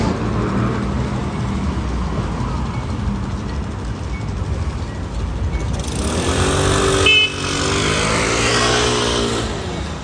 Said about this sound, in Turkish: Evet, motor da bize selam verdi.